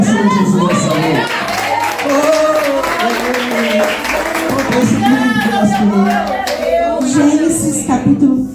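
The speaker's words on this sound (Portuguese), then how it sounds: "Quem crê nisso, aplauda o Senhor Jesus nessa noite." A church congregation claps and cheers together during an evening service, a dense, steady wash of many hands lasting throughout, with voices calling out over the applause and a preacher's voice rising above it.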